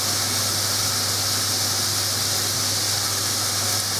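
Barley stuffed pepper filling fries in a pan with a steady, dense hiss and sizzle, continuous and fairly loud throughout, with a low constant hum beneath and no talking.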